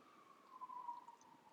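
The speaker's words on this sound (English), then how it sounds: "I apologize for the sirens in the background." A faint siren wails in the distance, a thin steady tone drifting slightly in pitch over low background noise.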